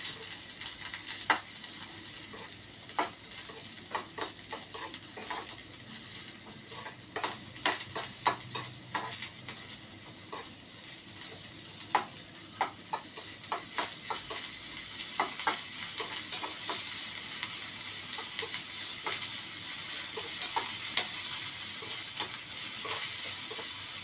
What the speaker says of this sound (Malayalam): അതിൽ ഇതൊന്ന് ഇളക്കി കൊടുക്കാം